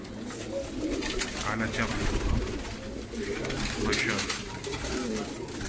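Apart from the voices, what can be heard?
pigeons cooing in a loft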